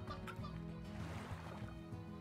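Chickens cluck and chatter on a farm morning in the Slime Rancher video game, a busy steady flock close by with a rooster among them.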